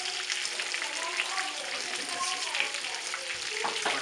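Food sizzles and crackles in hot frying oil, a steady bubbling hiss while children are taught to cook, with voices talking over it.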